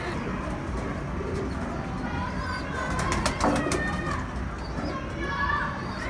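Female mustached-breed pigeon cooing softly nearby in a loft, low murmuring calls mixed with other birds and faint background voices and activity.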